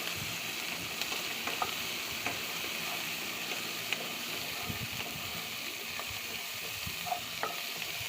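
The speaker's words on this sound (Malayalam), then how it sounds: "തക്കാളി പച്ചമുളകും ഇട്ടിട്ട് അത് നല്ലോണം ഒന്ന് മിക്സ് ചെയ്ത് നല്ലോണം ഒന്ന് ഇതായണ വരെ ഇളക്കി കൊടുക്കുക" Tomatoes and green chillies fry in oil in a pan, a continuous crackling sizzle broken by light scraping clicks of stirring at an uneven pace, close and without talk.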